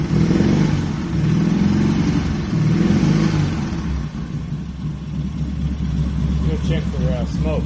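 A 1971 Honda 600 sedan runs without a muffler, its small engine chugging loudly and close at first, then settling into a steadier lower idle, with a voice talking briefly near the end.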